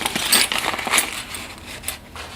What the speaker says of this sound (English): We just found keys right here.